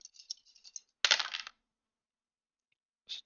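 Several dice clatter and tumble across a tabletop during a Dungeons & Dragons style game: light rattles at first, a louder clustered roll in the middle, then a brief final clack after a pause.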